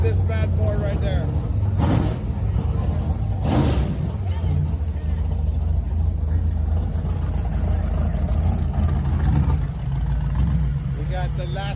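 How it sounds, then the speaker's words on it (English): ProStreet cars with engines pushing 700-800 horsepower rumbling as they pull in at an outdoor car show in Old Town Kissimmee, Florida, a loud steady low idle with brief surges, under people talking nearby. "We got the last two ProStreets over here pulling in"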